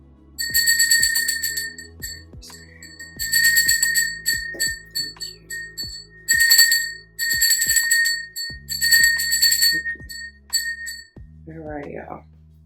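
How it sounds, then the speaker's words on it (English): A small hand bell rings repeatedly in bursts of bright tinkling during a deck unboxing, with a low hum and light taps underneath and a brief voice near the end. "We're gonna do the bell."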